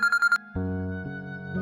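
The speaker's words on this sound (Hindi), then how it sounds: "ये जरूर जुनैद का फोन होगा, सब्र नहीं आ रहा होगा ना इसे" A phone rings with a short run of bright ringtone beeps, then shifts into a sustained, louder tone. It is heard alone and up close, with no talking.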